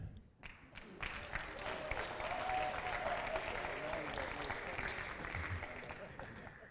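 Applause from a school audience at a high school celebration swells quickly after a few scattered claps and stays steady and dense for several seconds, heard from a moderate distance.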